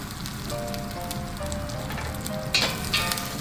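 Garlic sizzles in olive or corn oil in a pan, a steady crackling fry with a couple of sharper spits near the end.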